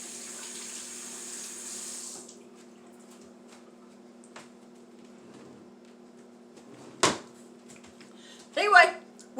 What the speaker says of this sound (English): Let me wash my hands after licking my fingers